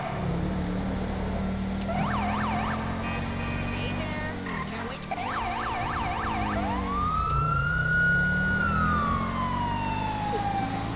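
A police car siren wails in GTA V with the LSPDFR mod, loud and close, cycling through rapid yelps and a long rising and falling wail over a steady engine drone.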